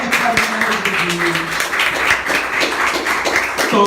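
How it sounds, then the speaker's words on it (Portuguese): A congregation claps for the Lord during a Sunday church service, a brief rhythmic round of applause mixed with a voice speaking over it. "Dê uma salva de palmas bem forte para o Senhor"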